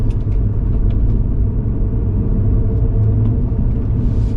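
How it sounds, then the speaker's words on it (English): Inside a 2009 BMW 135i with a manual gearbox and twin turbos, the engine gives a deep, steady rumble under load while driving, close and constant, with no talk. "Once those turbos start to spool up a bit, like, it's got power."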